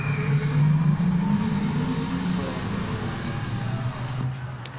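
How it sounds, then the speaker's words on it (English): An AI-generated spaceship liftoff sound effect: a deep, sustained rumbling roar with a steady hiss on top, holding loud and then easing off near the end. "So my spaceship has taken off"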